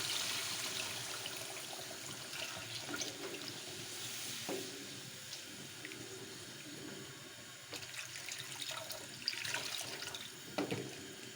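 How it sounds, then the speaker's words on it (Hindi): Water poured into a cooking pot while making a potato and egg breakfast; a soft continuous splashing and trickling stream, fairly quiet and close, with occasional clinks against the pot. "अब इसके अंदर पानी डालते हैं।"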